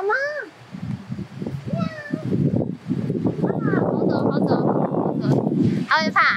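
A cat meows by a roadside in Tuscany, Italy, with a few short, rising calls spread across the span under near, ongoing conversation, and a human voice imitates the meowing.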